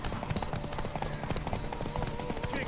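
Steady clip-clop of horse hooves at a quick pace in The Witcher 3: Wild Hunt, with a busy crowd-like background and faint voices mixed in.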